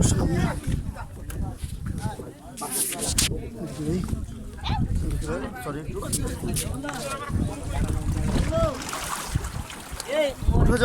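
A boat moves on the water near Chhera Dwip island with sloshing and splashing against the hull and a low motor-like rumble, while several people talk and call out over it.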